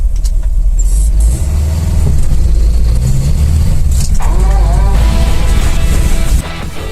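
LuAZ off-road vehicle driving over rough off-road terrain, with a steady loud engine drone and rumble throughout, varying slightly as it moves.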